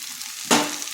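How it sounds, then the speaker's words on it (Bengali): Cauliflower sautéing in a pan with eggs and spices, a steady frying hiss that bursts into a louder sizzle halfway through as something is stirred or added, with no voices. "এগুলো দিয়েও আরেকটু কষে নেব যাতে মশলাটা ফুলকপির গায়ে ঢুকে যায়"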